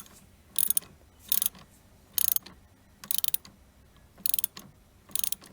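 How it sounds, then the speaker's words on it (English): A hand ratchet clicks in short bursts while tightening the negative terminal clamp on a car battery, six evenly spaced rapid pawl-clicking strokes, close and crisp against a quiet background. "Then take your ratchet and tighten that up clockwise."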